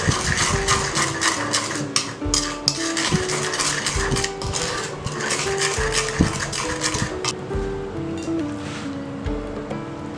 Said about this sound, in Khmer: យើងទៅច្របល់គ្រឿងផ្សំហ្នឹងឲ្យចូលគ្នាទៅដល់ស្រាប់ហើយ